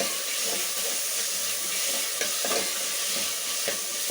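Tomatoes with salt and turmeric sizzle and hiss steadily in a pan for sambar, with occasional soft stirring scrapes, close and continuous.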